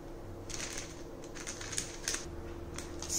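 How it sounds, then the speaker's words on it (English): Scissors snip through parchment paper while cutting a circle shape for a craft coaster, giving a series of faint, crisp, irregular clicks and slicing sounds at close range in a quiet setting. "you have to cut the circle shape with the scissors"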